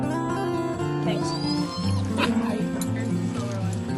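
Several dogs from a dog-walking group bark, yip and whimper near a van before a trail outing, overlapping excited calls with voices mixed in underneath.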